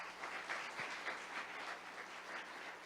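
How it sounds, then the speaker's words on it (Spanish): A church congregation gives a round of applause for the Lord Jesus during an Easter resurrection sermon, a faint, even wash of many hands clapping steadily under a low room hum. "Denle un fuerte aplauso al Señor Jesús"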